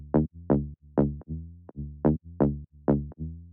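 A tech house bass line of punchy, plucked synth notes in a steady, groovy repeating pattern, loud and alone with no other instruments.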